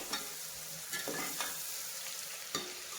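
Biryani base sizzling in a pan as it is stirred, a steady frying hiss broken by a few sharp scraping strokes, close and moderately loud with no talking.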